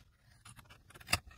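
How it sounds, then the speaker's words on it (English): Scissors trimming the extra edge of cardstock on a handmade fold card: quiet, soft cutting rustles lead to one crisp, close snip. "I will use my scissors once again just to trim off the extra"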